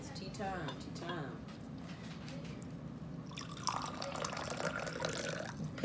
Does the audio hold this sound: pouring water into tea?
yes